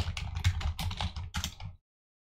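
Quick, close keystrokes clatter on a computer keyboard in short bursts for under two seconds, then stop abruptly into silence.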